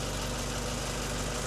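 A Ford Cortina engine idles steadily while warming up after a thermostat install, a close, even, continuous rumble with a faint rhythmic knock and no voices.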